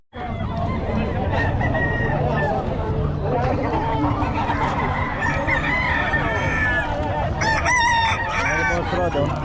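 Roosters and hens at a Filipino gamefowl seller's yard crow repeatedly and cluck, loud and close, over a steady babble of people talking in the background.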